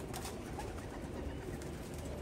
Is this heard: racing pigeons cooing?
yes